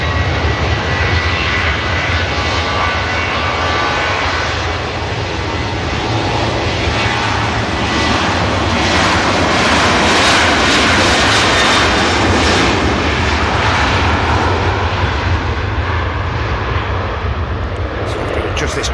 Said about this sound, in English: now number 2 and fully established with runway 23 right is the Egypt Air